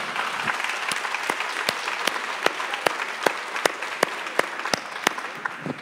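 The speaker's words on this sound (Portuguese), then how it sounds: "Então um aplauso de novo, né, minha gente?" An audience at a religious gathering claps in rhythmic unison. The sharp, evenly spaced claps ring out over a soft crowd murmur at moderate loudness.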